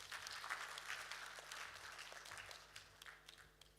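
Applause for a speaker at an ICT job fair, a steady wash of many hands clapping from an audience, moderately distant, fading slightly toward the end.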